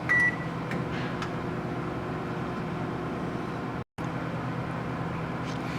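A steady low hum of a microwave oven running with a stainless steel bowl of chocolate inside, with a brief beep at the start and a short dropout midway.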